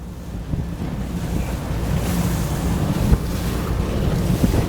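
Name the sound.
pontoon boat with VARA hydrofoil speeding up over waves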